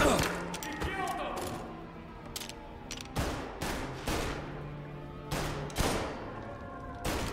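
Gunfire in Mafia: Definitive Edition crackles in loud, sharp bursts, several shots spaced irregularly and echoing, with excited voices talking over the shooting.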